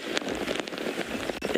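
Heavy rain patters on safari camera gear in the African bush, a dense, close hiss of drops with sharp ticks and taps striking the covered equipment, steady and loud throughout with no voices.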